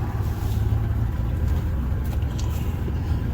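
A car is driven to check whether its slipping transmission now engages the gears, producing a steady, close engine and road rumble with faint higher clatter, and no voices.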